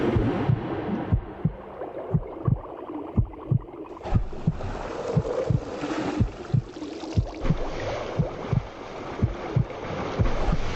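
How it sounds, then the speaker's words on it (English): Pounding heartbeat of a competitive swimmer, steady regular thuds repeating roughly every half second, muffled under a wash of water and ambient noise. "Her heartbeat must be going through the roof."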